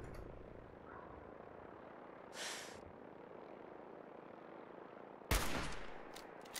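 Two separate gunshots ring out in Fallout 4, a muffled crack followed a few seconds later by a louder, sharper blast with a short tail, over a quiet, dull background.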